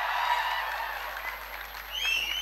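Audience applause at a Marathi stand-up comedy show, a steady close wash of clapping through the whole stretch with faint tonal voice sounds rising briefly near the end.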